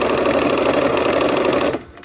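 Sewing machine stitching a quilt sail piece cut on the bias, a rapid steady mechanical chatter heard close and loud that stops abruptly near the end.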